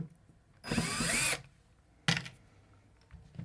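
Power drill backing out screws from storage trays, with one long whirring burst, then a shorter second burst after a pause, close and loud against a quiet room.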